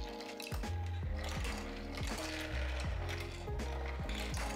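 Hand-cranked 3D-printed PLA screw sorter clicking and ratcheting, its plastic gears turning in a steady repeating rhythm of clacks, close and alone.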